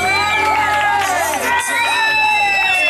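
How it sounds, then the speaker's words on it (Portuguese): A lively crowd cheers and whoops for a couple at a wedding-anniversary surprise in Vila Carrão, loud and close, with children's shouts mixed in over a continuous music-like tonal background. "Uma salva de palmas pro nosso casal"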